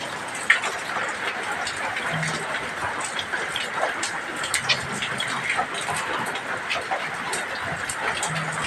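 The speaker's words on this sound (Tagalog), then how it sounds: "Ulan pa." Steady rain falling outdoors during a typhoon, a continuous hiss of drops with no breaks, heard alone without voices.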